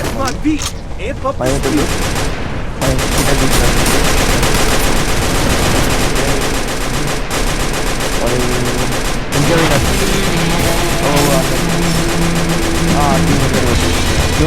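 Dense gunfire in the Free Fire battle royale game, with sniper rifle shots among rapid bursts that crack in loud repeated volleys over a busy game soundtrack, while a player talks over it.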